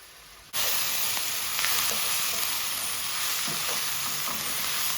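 Onions fry in a hot pan with a steady, dense sizzling hiss that starts abruptly and holds evenly, close and moderately loud, with faint stirring ticks and no voices.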